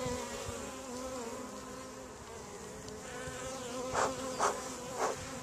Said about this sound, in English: Bees are working like mad. They're rushing in with lots of yellow pollen.